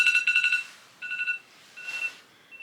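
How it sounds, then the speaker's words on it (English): An alarm goes off in a quiet room, sounding rapid bursts of bright electronic beeping. Three separate beep groups are heard, with short pauses between them. "That's my alarm for me to go."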